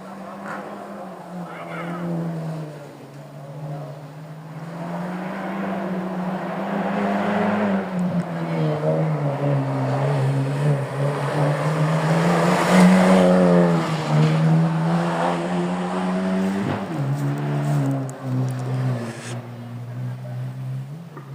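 A rally car races past on the Peña Tú stage of the Villa de Llanes rally, its engine roar building to a loud peak and then fading, with spectators talking throughout.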